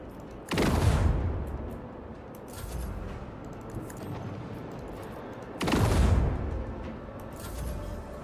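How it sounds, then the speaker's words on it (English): Macro cannons in the Rogue Trader video game let off two heavy booming volleys several seconds apart, each a loud broadband blast that trails into rumble over a continuous low battle din. "The symphony of macro cannons."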